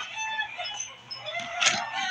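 A toy bird gives a short electronic chirping, clucking call, close and fairly loud, heard alone during play with toy animals.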